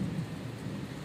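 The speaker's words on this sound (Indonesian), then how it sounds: "Dengan hujan sekencang ini dan angin sekencang ini, greenhouse ini masih bisa ya," Heavy rain and strong wind beat against a greenhouse in a steady, dense wash of noise that holds evenly throughout, with no voices.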